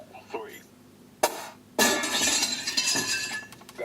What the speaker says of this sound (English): Okay, so the smashing glass sound,